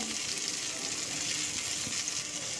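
Chopped onion and long-sliced tomato sizzle softly in hot cooking oil in a pan, giving a quiet, steady frying crackle throughout with no voices.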